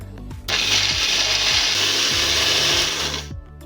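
A mixer grinder grinds almonds with water into a paste, starting abruptly as a loud, steady, close whirring roar that runs for about three seconds before cutting off.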